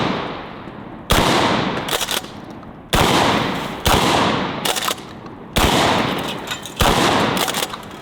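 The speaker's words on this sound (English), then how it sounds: "so we obviously have to destroy some stuff with it." A DP-12 double-barrel pump shotgun fires repeated loud, sharp blasts at targets outdoors, the shots coming in quick pairs and singles with ringing echoes decaying between them.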